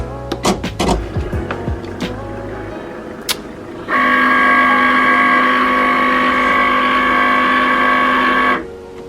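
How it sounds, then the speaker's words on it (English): A Cricut Explore Air 2 cutting machine powering on: a few clicks and handling knocks, then a loud steady electronic whir starts, holds for several seconds and stops abruptly. "I'm gonna go ahead and start by powering my Cricut on"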